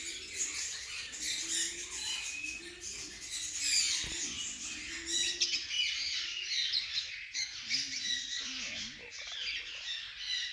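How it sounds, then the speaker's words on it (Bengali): Brightly coloured orange and green parrots at a mini zoo give rapid, busy chirps and squawks that run throughout, mixed with a person talking. "এর পাশেই আবার উজ্জ্বল রঙের টিয়া।"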